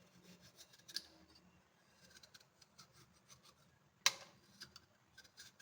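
A knife pares the brown skin from pieces of coconut for coconut burfi, making faint, close scraping strokes with a couple of sharper scratches in an otherwise quiet room.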